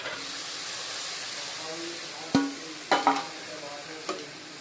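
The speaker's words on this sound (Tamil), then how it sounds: "வெங்காயம் வந்து நல்லா ட்ரையாக வதங்கணும்." Onions sautéing in a pan for an egg gravy give a steady broadband sizzle, with a few sharp spoon-scrape and stirring clacks near the end; no talking.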